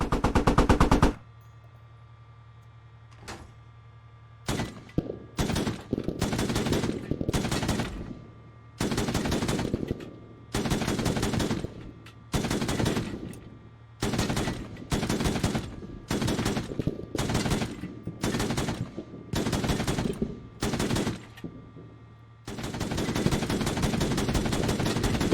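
A Mark 19 grenade launcher fires in the video game Squad: over a dozen loud, sharp bursts of rapid fire come at irregular intervals, with brief quiet gaps and a sustained stretch of firing at the end.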